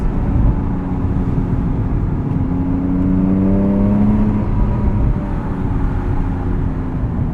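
A 2006 Porsche Cayman S with a six-speed manual heard from inside while driving: a steady road rumble and engine drone, with a whirring tone that climbs in pitch mid-stretch before easing off, and no talking.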